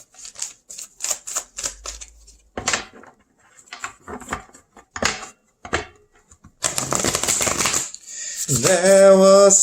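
Tarot cards shuffled and handled by hand for a card draw, with a run of crisp close riffling and tapping bursts, then a denser continuous shuffle, ending in a sustained tonal sound.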